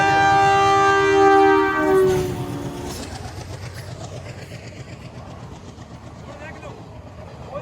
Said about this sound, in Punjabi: ਕੱਲੀ ਸਾਇਰਨ ਦੀ ਆਵਾਜ਼ ਆ ਰਹੀ ਹੈ ਤੇ ਹੁਣ ਆ ਸਾਇਰਨ ਦੇਊਗਾ